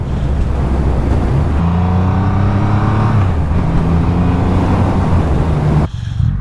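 A Triumph Rocket 3R motorcycle rides along a back road, its engine droning loud and close with steady rising and falling pitch as the throttle is worked, cutting off abruptly near the end.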